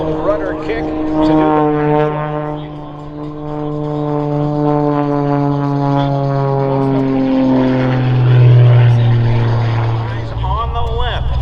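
An Extra 300 aerobatic propeller plane makes a pass at an air show, its droning engine note rising and falling as it goes by fairly close, with an announcer talking over it.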